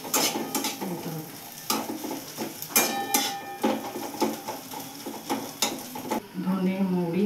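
Rice being stirred and mixed with spices in a cooking pot, with repeated scraping and clinking strokes at an uneven rhythm, close and moderately loud, a voice briefly audible near the end.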